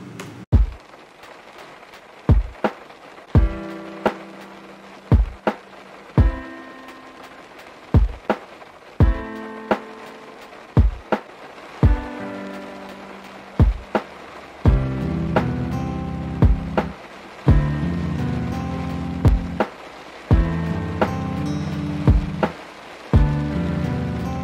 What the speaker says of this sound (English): You notice the rain sounds, you know?